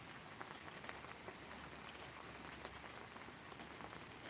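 Heavy rain pours down in a dense, constant hiss of drops striking surfaces, steady throughout with no voices.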